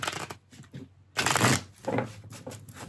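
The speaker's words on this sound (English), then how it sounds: "From this deck here, I'm going to shuffle one more time" Tarot cards being shuffled up close in a few quick bursts of riffling and flicking, with short pauses between them.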